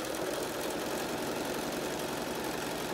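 An electric sewing machine back-stitching a cloth face mask, a steady fast mechanical hum and rapid needle clatter, continuous and close, with no talking.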